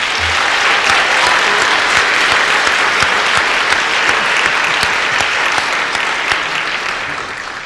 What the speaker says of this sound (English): one more round of applause for young Ms